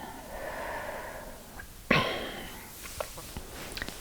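A deep breath during a soft-spoken relaxation session: a faint airy inhale, then a sharper close exhale that tails off, followed by small breathy clicks.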